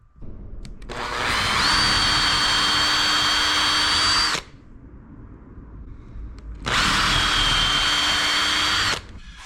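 A power drill countersinks holes in a wooden internal door lining frame, in two loud sustained bursts of about three and two seconds with a steady high whine, separated by a quieter pause of workshop background.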